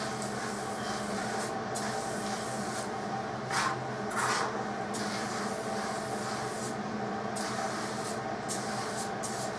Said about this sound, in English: simply spray this one down too